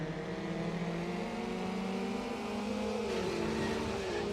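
Mazda MX-5 race cars in the Need For Speed Underground video game drone with steady engine tones that rise and shift pitch as they accelerate, a continuous mid-level game soundtrack without speech.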